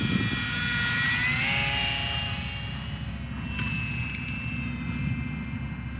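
A small Eachine Mini P-47 RC warbird plane flies overhead, its electric motor and propeller giving a steady buzzing whine that rises and falls in pitch as it passes, over a constant background rumble.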